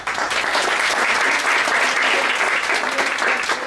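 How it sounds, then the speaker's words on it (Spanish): Steady, loud applause from an audience at a feminist debate event, continuous clapping filling the whole stretch without a pause. "Demos un aplauso para recibir el"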